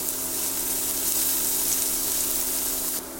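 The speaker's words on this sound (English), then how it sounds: "But here I would be sauteing the onions and the green chilies." Onions and green chilies sauteing in a pan: a steady, continuous sizzle and crackle of frying, moderately close and without talk, ending abruptly near the end.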